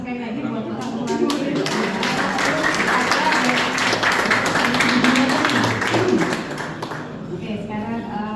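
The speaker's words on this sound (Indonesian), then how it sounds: "Mungkin kita kasih tepuk tangan sekali lagi buat Pak Saroko." An audience at an art gallery exhibition opening applauds for Pak Saroko, a dense burst of clapping that swells for several seconds, then thins out, with a voice speaking over it.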